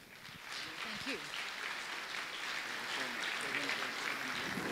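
Sustained applause from a conference audience, steady and fairly loud throughout, with a voice briefly audible near the start.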